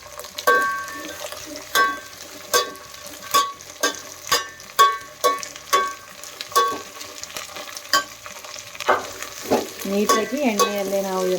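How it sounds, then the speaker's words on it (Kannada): Vegetables fry in oil in a village kitchen while a spoon stirs them in regular sharp scraping strokes about once a second, close and clear over a soft sizzle, with a brief voice near the end. "ನೀಟಾಗಿ ಎಣ್ಣೆಯಲ್ಲೇ ನಾವು ಇದನ್ನು ಫ್ರೈ ಮಾಡಬೇಕು."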